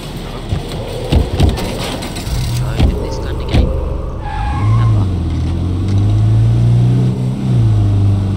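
Car driving in State of Decay 2, with a low engine drone that rises and holds steady through the second half. Skidding and rattling bumps come earlier, and there is no talk over it.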